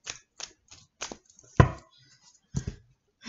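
Tarot cards being shuffled: several short papery riffle bursts spaced apart, with a louder flurry midway and more toward the end, fairly close and alone without talk.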